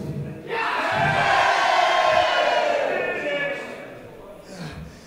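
A wrestling crowd roars and bellows in unison, urging the two wrestlers to fight. The sustained wall of shouting swells for a few seconds, then fades, with a few scattered voices left at the end.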